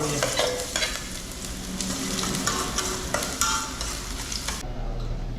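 Chopped ginger frying in a hot pan, giving off a dense, steady sizzle with spoon or spatula scrapes as it is stirred. The sound is close and continuous, and no one speaks.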